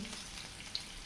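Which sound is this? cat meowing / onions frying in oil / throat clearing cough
onions frying in oil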